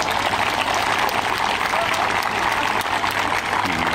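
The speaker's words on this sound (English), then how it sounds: "Please give them another round of applause." Sustained crowd applause and cheering at a mayor's rally against criminal violence in the city, a dense, steady roar of clapping holding loud throughout with no pause.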